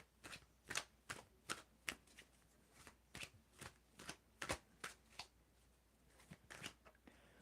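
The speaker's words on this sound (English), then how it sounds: "just tell me when to stop shuffling, Than." Tarot cards being shuffled by hand during an oracle reading, a run of sharp, crisp riffling bursts at an irregular pace, close and fairly loud, with no talking.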